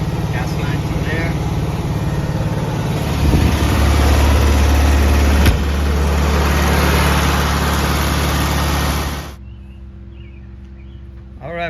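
A 1969 VW Beetle engine idles loudly with a steady low throb, its note dropping and thickening midway, then cutting off abruptly near the end, leaving a quiet background.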